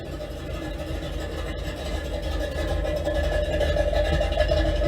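A 1967-1968 Pontiac Firebird V8 idles steadily with a deep, rumbling low end, close and fairly loud, growing slightly louder over the few seconds with no talking.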